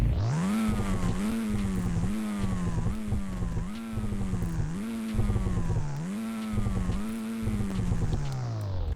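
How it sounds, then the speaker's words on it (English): A car engine in the Roblox driving game Greenville Wisconsin revs repeatedly, each blip climbing sharply and falling back, about seven rhythmic throttle pulls, loud and close with no talking. "Here's some revs."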